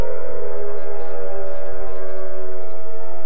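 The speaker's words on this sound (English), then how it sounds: "And we get to hear the siren finally properly." A loud, steady droning siren in the video game Silent Hill, a layered sustained wail holding constant without pause throughout.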